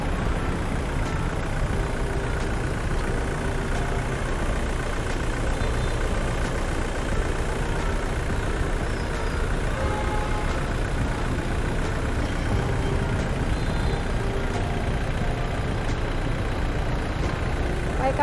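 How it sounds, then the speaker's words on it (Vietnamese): A 2019 Toyota Fortuner with a manual gearbox and diesel engine idles with a steady, even low rumble that holds unchanged throughout, close by and without talk. "Đó, tiếng máy nổ đó các bạn."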